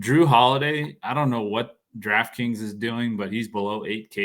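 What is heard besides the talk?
No everyday noises stand out.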